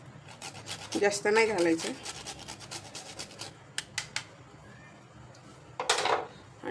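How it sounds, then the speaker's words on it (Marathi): Nutmeg is rubbed against a grater for a spice masala, giving short dry rasping scrapes in brief bursts, close and fairly quiet, with someone speaking over part of it. "त्यामध्ये थोडंसं जायफळ असं खिसून घालायचं आहे"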